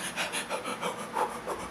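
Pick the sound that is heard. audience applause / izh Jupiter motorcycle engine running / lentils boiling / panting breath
panting breath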